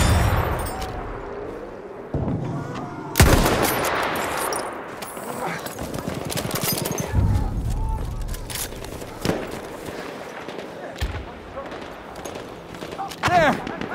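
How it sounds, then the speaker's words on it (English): Machine gun fire in the Battlefield 1 video game: rapid bursts and sharp gunshots, some loud and close, others more distant, with booms and shouted voices in between. "Enemy machine gun!"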